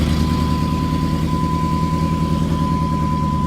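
A car engine running just after its spark plugs were changed, one cylinder suspected of a fault, holding a steady loud idle with an even low throb and a constant tonal hum, no talk.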